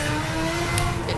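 A race car engine revs at a steady high pitch in an F1 video game set at the 2012 Indian Grand Prix circuit. The drone is close and loud and holds for about a second.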